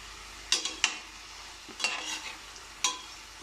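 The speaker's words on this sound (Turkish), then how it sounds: "Şimdi bunları kızartalım." Short bursts of stirring and scraping in a pan over a soft sizzle of frying food with tomatoes, with several distinct clatters spaced across the stretch.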